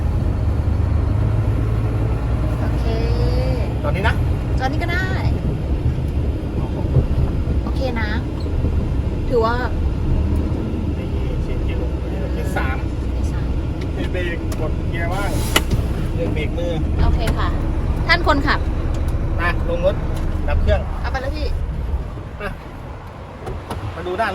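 A UD tractor truck with a 390 hp engine runs in a steady low rumble that stays even and loud throughout, while a person talks over it.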